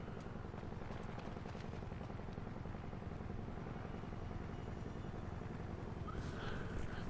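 A helicopter in the video game GTA V gives a faint, steady rotor drone that continues throughout at low volume.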